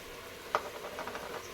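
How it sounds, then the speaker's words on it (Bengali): Ground spices such as turmeric and coriander-cumin powder sizzle quietly as they are sautéed in a pan, with a steady low frying hiss and a few small ticks and stirring taps, faint and without voices. "এই যে দেখুন সব মশলা দিয়ে একবার কষিয়ে নেব"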